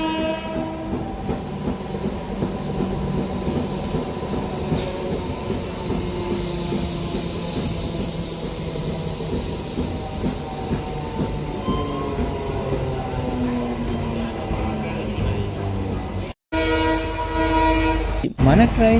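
MEMU passenger train pulling away from Uppuguda railway station after a one-minute halt, a continuous loud rumble of wheels and carriages with tonal horn-like drones, a few clanks near the end.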